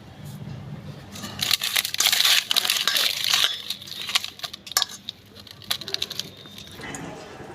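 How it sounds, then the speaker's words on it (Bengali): Bhetki fish is rubbed by hand with salt and turmeric, making close, irregular wet squishing and crinkly rubbing sounds that swell and fade in bursts. "মাছে একটু নুন হলুদ মেখে নিচ্ছি"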